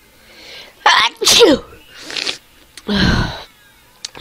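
Several loud, sharp human sneezes burst out close to the microphone in quick succession, each a harsh explosive blast, with brief quiet gaps and a small sniff between them.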